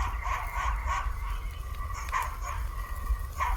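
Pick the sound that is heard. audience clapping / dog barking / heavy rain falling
dog barking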